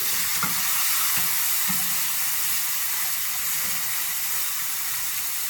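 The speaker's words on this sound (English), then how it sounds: "my oil is hot. It's starting to smoke. And what I'm going to do is I'm going to sear this beautiful steak." A chuck roast sears in smoking-hot oil, giving a loud, steady sizzle and hiss with a few soft clunks as the meat is moved in the pan.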